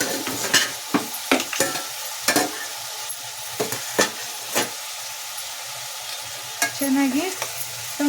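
Half a kilo of chopped tomatoes with a little coriander cooks in a pan for tomato thokku, sizzling softly under repeated sharp scrapes and clacks of a spoon stirring at close range.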